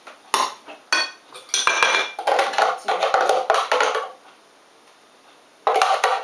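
Metal utensil scraping and clinking against a bowl while a creamy raw vegan curry sauce is stirred into sprouted pink lentils, in bursts of close, clattering strokes with short pauses between them.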